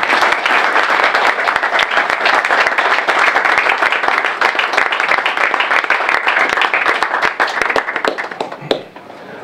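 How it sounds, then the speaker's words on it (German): An audience applauds at a charity event in the Kleine Philharmonie, honouring one of the city's oldest shops. The clapping is loud, dense and steady, with some voices mixed in, before it thins out and fades at the end. "es ist ein kleiner Applaus wert für einer der ältesten Läden der Stadt"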